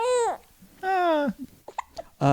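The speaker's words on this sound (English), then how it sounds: "You might hear a hiccup or two." A baby hiccups a few times in short, sharp bursts, with soft vocal sounds and babbling around them, close by.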